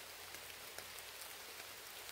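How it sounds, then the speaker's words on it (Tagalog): Steady, faint rain falling, an even hiss of drops on a surface with no voices. "Ulan talaga."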